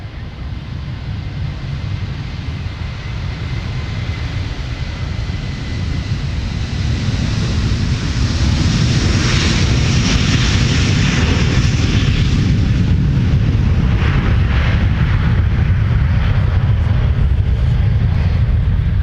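An airliner takes off from runway 12 right at Minneapolis–Saint Paul airport, a broad, steady jet roar that builds over several seconds and holds loud and rumbling to the end.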